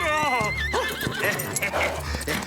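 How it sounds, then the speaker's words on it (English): A loud, close horse whinny with a wavering, descending pitch, followed by snorts and hoof clatter amid some background voices. "No eating the flowers, naughty horse!"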